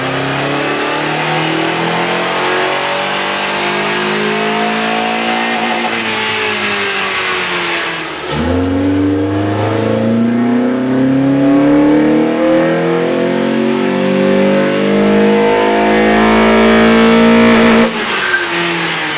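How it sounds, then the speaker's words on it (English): A 2008–2011 Honda Accord with a 2.4-liter engine and a K&N cold air intake revs hard on a dyno. The loud engine climbs, drops back, then surges up again with no talking. "With the air intake installed, we ran the vehicle on the dyno to test the sound comparison versus the stock intake."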